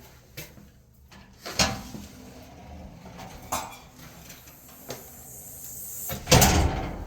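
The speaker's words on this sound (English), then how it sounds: "upgraded security door" An upgraded security door at a patio home in a 55+ community in Goodyear, Arizona, opens and closes with several clunks and a rattling latch, moderately loud against a quiet room.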